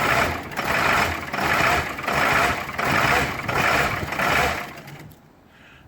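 Diesel truck engine running on number 2 diesel, cranking in repeated rhythmic surges of about a second each after glow plugs are cycled, loud and close, then cutting off near the end.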